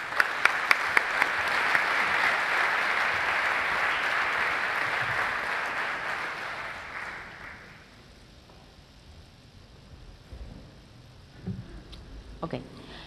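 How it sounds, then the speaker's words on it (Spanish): A room full of people at a panel talk on politics and the left claps loudly to welcome a moderator. The applause fades away after about seven seconds, leaving a quiet hall with a few faint knocks. "Les pido un fuerte aplauso para darle la bienvenida."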